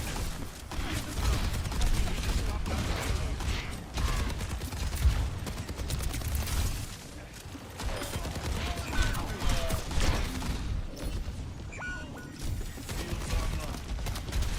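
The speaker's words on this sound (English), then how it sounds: "that Widow is just on the right-hand side, just shooting one bullet at a time" Widowmaker's sniper rifle firing single, spaced shots in an Overwatch match, the reports mixed into dense game combat noise of other gunfire and abilities, with people talking throughout.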